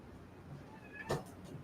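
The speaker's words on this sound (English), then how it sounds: "He's just a very talkative cat." A talkative house cat gives a single short meow partway through, fairly close and clear against quiet room background.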